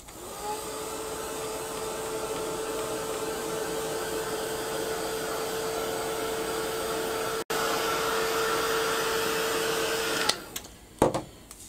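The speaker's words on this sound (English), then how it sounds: "So give that a quick dry." A hair dryer drying blue paint on a craft project blows in a steady, close whir with a constant tone for about ten seconds, briefly cut once, then shuts off with a few clunks.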